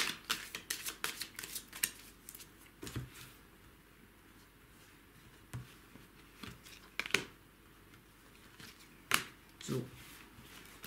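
Tarot cards are shuffled and drawn in a series of crisp riffling bursts, clustered early and then scattered, close and fairly quiet, with occasional soft voice sounds between them.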